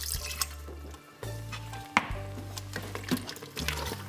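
Water is poured into a pot while tomato sambar is cooked in an Instant Pot, coming in short splashing bursts with pauses and a clink of metal, near and fairly quiet.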